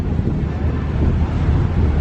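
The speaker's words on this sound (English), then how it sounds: "It's getting windy up here." Wind buffets the microphone on the open upper deck of a Seine river cruise boat in Paris, a steady low roar with no voices.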